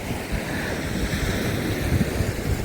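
Sea waves rolling onto the shore in Odesa in January, a steady close wash of surf mixed with gusty wind buffeting the microphone, no voices.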